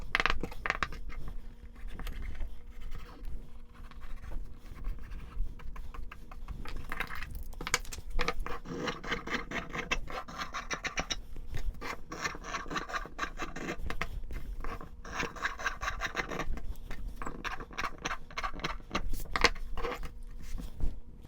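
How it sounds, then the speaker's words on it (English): Scissors cut through fabric for knife pleats, a quiet close series of crisp snipping and rustling strokes repeating irregularly throughout. "now I'm all ready to cut this out of fabric"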